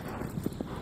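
Horse hooves clip-clopping in the video game Shadow of the Colossus, a steady run of soft galloping thuds at moderate distance over a low game ambience.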